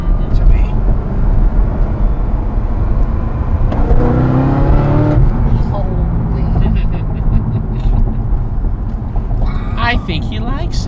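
A Chevrolet Corvette C6 ZR1 with a stick shift accelerates hard in second gear through the mid-range, its loud engine roar rising in pitch from inside the car while people talk and exclaim over it.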